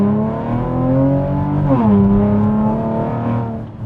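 A Chevrolet Camaro's deep engine rumbles steadily, then revs up with a rising, throaty exhaust note before settling back to a loud idle.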